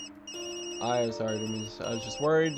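A phone in the video game Tokyo Dark: Remembrance rings in repeated electronic tones that blend with a speaking voice over quiet game ambience.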